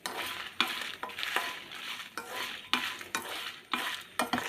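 Dried red chillies fry in hot oil in a pan while being stirred, a steady crackling sizzle broken by repeated scraping strokes of the spoon at an irregular rhythm, close and fairly loud with no talking.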